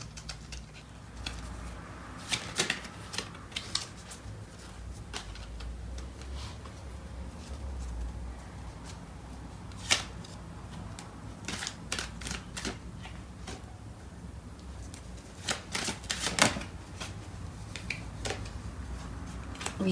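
Tarot cards are shuffled close by in a soft, irregular run of riffles and taps, with brief crisp clicks scattered through a quiet room.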